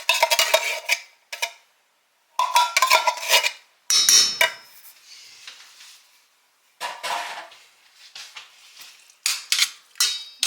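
Black-eyed peas tumble into a cooking pot in a home kitchen: short bursts of clattering, scraping metal and a spoon stirring, separated by quiet gaps, close and fairly loud with no talking.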